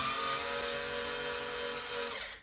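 A power tool whirs steadily as handles are taken off kitchen cabinet doors, a continuous close motor drone with a high whine that winds down at the end.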